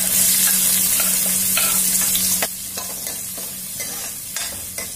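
Chopped onions frying in hot oil with cumin and asafoetida give a loud, dense, hissing sizzle that drops partway through, followed by quieter spatter and a few scraping stir strokes close by, with no talk.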